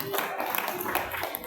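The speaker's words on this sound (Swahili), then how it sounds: "Tupigie Mungu makofi." A church congregation claps in praise to God, a quick run of scattered hand claps under a preacher's speaking voice, fairly close and lively.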